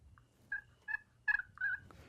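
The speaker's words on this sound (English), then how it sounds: "Try out this new Night and Hail Scarlet Fever turkey call" A Night and Hail Scarlet Fever turkey call is worked in a run of short, clear yelping notes, about five evenly spaced calls, close and fairly loud with no talk.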